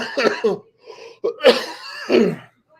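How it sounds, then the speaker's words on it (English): A few harsh coughs in quick bursts, close and loud, with brief pauses between them and no speech. "I'm still coughing."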